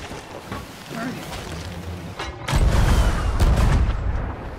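Cannon fire and an exploding keg strike a ship in a Sea of Thieves battle, a sharp crack followed by a heavy, booming blast and rumbling impact, with players talking over the chaos.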